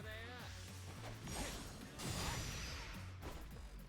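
Shell Shatter attack in Yakuza: Like a Dragon, a crashing smash with whooshing swipes over game music, followed by a second louder impact burst.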